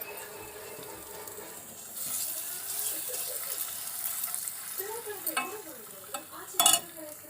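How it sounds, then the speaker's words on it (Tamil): Chocolate, butter and a little water being stirred in a nonstick pan: soft scraping and gentle sizzling, with brief louder clinks and swishes of the utensil near the end. "நம்ம எடுத்து வச்சுருக்க சாக்லேட்டை வந்து ஒரு நான்ஸ்டிக் பேனில் வந்து விடணும்."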